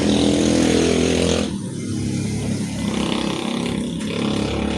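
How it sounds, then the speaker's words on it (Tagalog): Loud engines roar past close by, a heavy motorcycle rumble fading after a moment as more traffic keeps droning along. "Napakaingay po ng mga motor mga kababayan."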